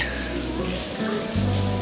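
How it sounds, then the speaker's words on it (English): Light rain falls in Lisbon as a steady, close hiss and patter that fills the whole moment without a break. "it is starting to rain in Lisbon and we're getting a little bit wet"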